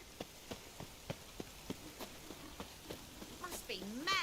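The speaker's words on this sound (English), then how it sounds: "Must be mad running around in this rain." Rain falls in the game The Witcher 3: Wild Hunt, a steady hiss broken by evenly spaced knocking steps like hooves, and a voice rises near the end.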